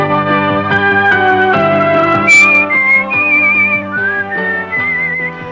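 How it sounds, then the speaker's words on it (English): A person whistles a song, a clear melody of sustained notes and gliding pitches, close and loud, continuing throughout without talk. "I'm not going to bore you with my whistling"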